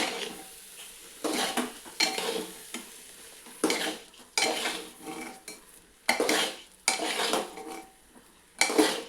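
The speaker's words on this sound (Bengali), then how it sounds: "এবার চালটাকে দিয়েও চালটাকে ভালো করে মশলাটার সঙ্গে একবার নেড়ে চেড়ে তারপরে আমি জল দিয়ে দেবো।" Rice being stirred into spices in a metal cooking pot for cauliflower khichuri: repeated scraping strokes of a spoon against the pot in irregular bursts, with a faint sizzle between them and no talk.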